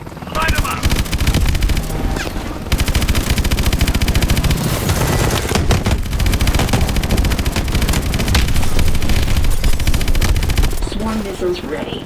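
Sustained automatic gunfire from Call of Duty: Advanced Warfare's final Terminus assault, dense and loud for nearly the whole stretch with brief gaps, under game music and effects.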